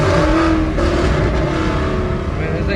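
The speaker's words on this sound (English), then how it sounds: "I'm showing you guys exactly what the Corsa Extreme sounds like" A Ford Mustang fitted with a Corsa Extreme exhaust roars loudly and steadily up close, a deep, rumbling engine note that holds throughout without a clear break.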